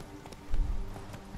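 The horse Roach trots across the ground in The Witcher, a short run of near hoofbeats with one heavier thud, and a voice murmurs faintly underneath.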